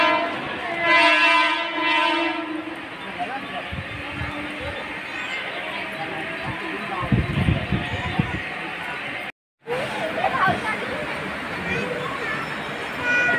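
A passenger train pulls out of a station in Konkan, its long horn blaring near and loud early on, then wheels and carriage rumble steadily with crowd chatter and voices throughout.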